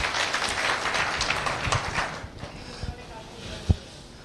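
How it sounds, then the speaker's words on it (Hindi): Audience applause for India's farmers at a Pamosa Worldwide team event, a dense clatter of clapping for about two seconds that fades out, followed by scattered hand claps and a few sharp thumps. "हमारे भारत देश के किसानों के लिए जोरदार तालियाँ।"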